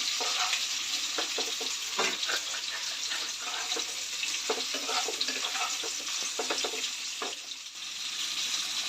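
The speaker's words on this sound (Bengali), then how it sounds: "পেঁয়াজটাকেও একটু ভেজে নেবো অল্প করে বেশি লাল লাল করবো না" Sliced onion frying in a pan for jackfruit biryani, a steady broadband sizzle with intermittent scraping clicks as it is stirred.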